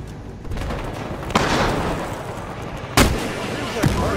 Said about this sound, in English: Throwing incendiary!